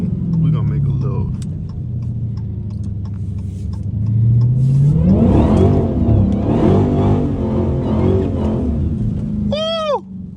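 Dodge Hellcat engine rumbling at idle, then revving up into a rising, throaty roar with pulsing gear changes, close and loud inside the car, ending with a brief tire squeal.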